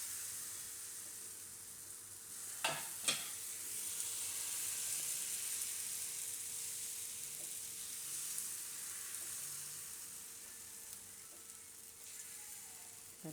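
Patra pudla batter spread on an oiled hot griddle fries with a steady, soft sizzle, broken early by two sharp clicks of a spoon, then hissing evenly and quietly.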